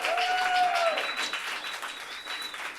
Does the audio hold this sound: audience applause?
yes